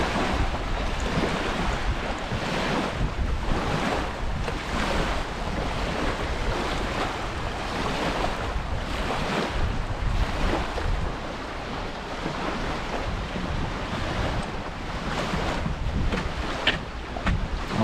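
Waves wash onto the beach at Devil's Lake in a continuous rushing surf, heavily mixed with gusting wind buffeting the microphone, with no voices.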